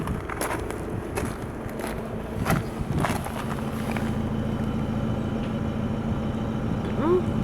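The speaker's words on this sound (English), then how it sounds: "Let's hear the engine outside and let's measure it, how loud it is." A diesel engine in a 2016 Volkswagen CC idles steadily outside, a close, even low rumble with some clicks and faint background noise over it.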